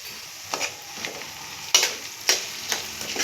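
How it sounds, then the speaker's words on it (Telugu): Cumin seeds dry-frying in a pan for a drumstick-leaf spice powder: a soft, steady background sizzle broken by several crisp scraping strokes of a spoon against the pan, close and clear, with no talking. "చూడండి జీలకర్ర కూడా ఫ్రై అయింది కదా"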